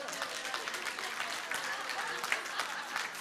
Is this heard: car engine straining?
no